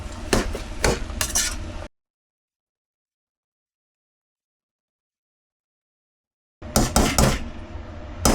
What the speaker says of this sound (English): Mix well and stir fry for 2 to 3 minutes in medium heat.